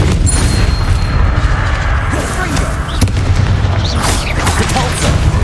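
A Bombarda explosion spell goes off in Hogwarts Legacy during a fight with dangerous spiders, a heavy boom buried in dense, continuous battle noise with a sharp crack near the middle.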